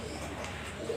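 A pigeon held in the hand gives a soft, low cooing that runs steadily through the moment, faint and close against a quiet indoor background.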